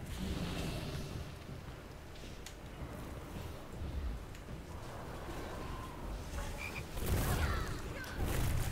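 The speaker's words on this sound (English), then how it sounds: "Now we got 2 frogs." Frogs croaking in the World of Warcraft video game, a dense steady game soundscape with low rumbling layers, brief chirpy croaks and louder bursts near the end, with no talk over it.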